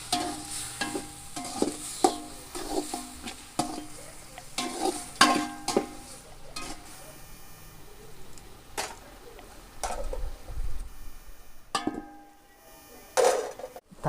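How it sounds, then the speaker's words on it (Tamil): Onions and then tomatoes sautéing in a pan for a village-style paarai fish curry, with soft sizzling under repeated stirring and scraping taps, steady and close with brief louder clatters. "வெங்காயம் வதங்கினோன்னா தக்காளி போடுறோம்"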